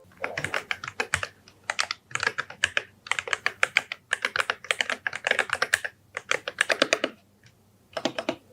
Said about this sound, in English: It not only looks and performs great, it's also one of the best sounding keyboards of all time.